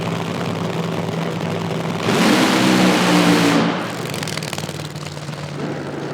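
A Pro Mod drag racing car launches at an IHRA Outlaw Nitro Series qualifying event, its engine surging into a loud, roaring blast for about two seconds before fading down the track amid crowd ambience.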